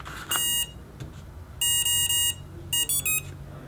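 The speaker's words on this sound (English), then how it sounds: "3 beeps means it's a 3-cell battery." A model's electronic speed controller powers up on a 3-cell battery and gives a short opening tone, then three clear, shrill beeps and a quicker final pair of chirps, close and alone against faint background hiss.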